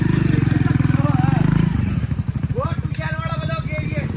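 A modified Royal Enfield Bullet motorcycle engine thumps with a steady, loud, close-up pulse that continues throughout while people talk over it.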